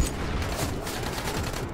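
Rapid bursts of gunfire in the zombie survival video game Dying Light, a dense fusillade of repeated shots running through the whole stretch, loud and continuous.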